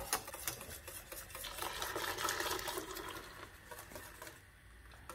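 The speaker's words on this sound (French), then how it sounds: "on remue bien pour pas que ça fasse des grumeaux." A whisk or spoon works steadily through béchamel sauce in a pan as hot milk goes in, a continuous scraping and swishing that stays close and fairly even for several seconds with no one talking.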